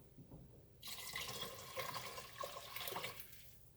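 Two cups of water poured from a spout into a cooking pot for pinto beans, a steady splashing gush lasting a few seconds before stopping.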